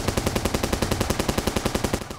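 Automatic weapon fire in a Roblox Brookhaven game, a steady rapid string of loud evenly spaced shots running continuously and close, with no talking.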